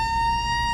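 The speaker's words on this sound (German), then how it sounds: "können wir bitte mit Sirene fahren?" Fire truck siren in a firefighter simulator game: one steady, loud, piercing tone that holds unbroken for under a second, with no talking.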